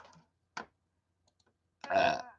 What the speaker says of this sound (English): At least I'm burping.